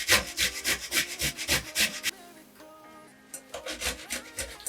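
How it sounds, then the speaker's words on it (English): Fresh ginger with the skin still on is rubbed hard against the lowest setting of a kitchen grater, giving a close, rhythmic series of rasping strokes, a short pause, then more scraping. "on the lowest setting of your grater, you're gonna grate the ginger"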